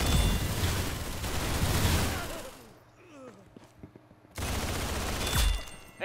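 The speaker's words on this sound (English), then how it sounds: "Very good shooting." Gunfire in a shooting video game: dense rattling volleys of rapid shots, loud and close, break off into a quieter stretch with scattered clicks and a brief whoosh, then another burst of sustained fire resumes.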